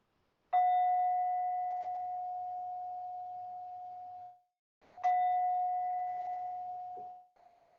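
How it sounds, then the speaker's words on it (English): A meditation bell rings twice, each strike a clear, close tone that hangs and slowly fades for several seconds in an otherwise quiet room. "with the sound of that bell, our practice comes to an end"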